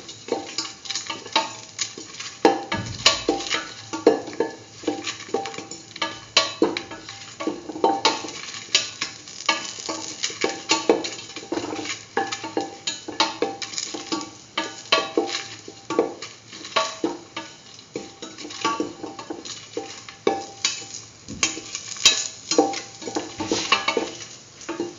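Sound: stirring salt into chickpea coconut dip

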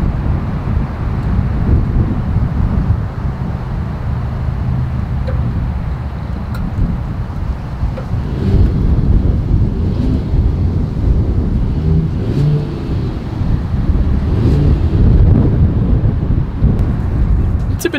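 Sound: Mercedes-Benz GLS 450 SUV exhaust sound

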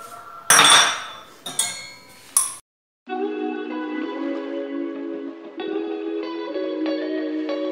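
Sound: putting away dishes by the sink

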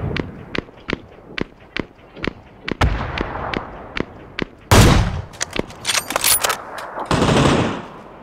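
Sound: grenade explosions and gunfire from a video game

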